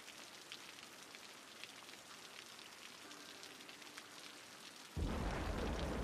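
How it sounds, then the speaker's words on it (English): A rainstorm in the Cities: Skylines city-building game hisses as a steady, soft patter of rain, then a sudden loud rumble of thunder breaks in near the end and swells over the rain. "Whoa, it's stormy today."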